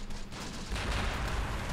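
Distant rumbling artillery and scattered gunfire in the Close Combat: The Bloody First battle with Italian commandos, a dull, muffled barrage that swells partway through, with no speech.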